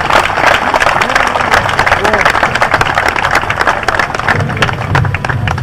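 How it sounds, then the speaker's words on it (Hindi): An audience applauds in honour of a guest at an event, with dense, steady clapping throughout and voices mixed in over the crowd noise. "जोरदार तालियां"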